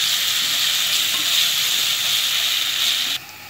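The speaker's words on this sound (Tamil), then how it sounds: "இப்போ இந்த இஞ்சி பூண்டு பேஸ்ட்டை வந்து பச்சை வாசனை போகிற வரைக்கும் நம்ம வதக்கிப்போம்" Ginger garlic paste sautés in a hot pan for egg curry, giving off a loud, steady sizzle and hiss that holds evenly and then drops abruptly to a quieter sizzle near the end.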